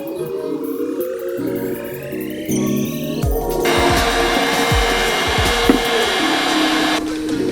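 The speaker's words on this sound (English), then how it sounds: "get yourself a helper to do the heat gun" Heat gun blowing steadily while a car mod is installed, a continuous loud airy roar that gets louder partway through and runs almost the whole time, with a few low knocks and handling noises under it.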